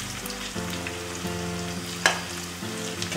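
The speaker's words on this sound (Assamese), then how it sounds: "আধা ভজা কৰি থ'ম পিঁয়াজখিনি" Onions sizzle steadily in a pan while being half-fried for pork with lai sak, a constant close frying hiss with a few stirring clatters and one sharp utensil knock midway.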